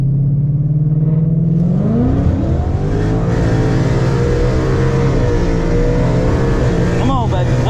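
A 2022 Mustang with an ESS G3 supercharger launches and pulls hard down a quarter-mile drag strip, its loud engine note climbing steadily through the gears with a brief shift near the end, heard from inside the car.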